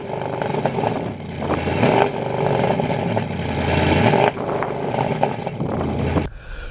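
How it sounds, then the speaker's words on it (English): The twin-turbo V8 of a 2020 Porsche Panamera Turbo holds a loud, close, continuous exhaust rumble with slight variations, then cuts off abruptly near the end. "So when talking about the exhaust pipes, I cannot not mention the exhaust note"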